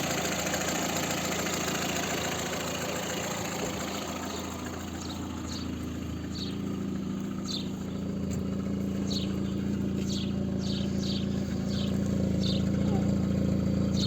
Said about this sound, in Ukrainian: А так працює двигун